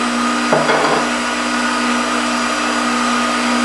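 A stand mixer or hand mixer steadily whirs as vanilla is worked into shortbread cookie dough, a constant motor hum close by with a brief louder surge near the start and no talking.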